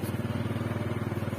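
A motorcycle carrying two sacks loaded on it rides steadily toward home, its engine a continuous close, low throbbing drone with a regular pulsing rhythm and no talk over it.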